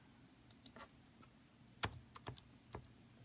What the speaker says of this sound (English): you can type out your select statement